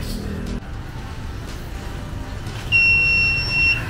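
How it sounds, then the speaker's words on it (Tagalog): A timer alarm goes off partway through, a loud, steady, high-pitched electronic tone that holds to the end over low, muffled background noise. "Nag-alarm na."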